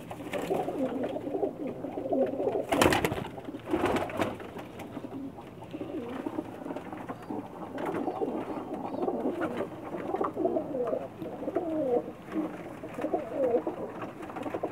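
Pakistani pigeons from Sargodha coo steadily in a loft, soft repeated rolling calls from several birds overlapping close by, with a couple of brief louder knocks partway through.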